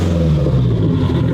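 A supercar engine revs briefly, steady and loud with a deep low rumble and clattering mechanical tone, heard alone with no talking.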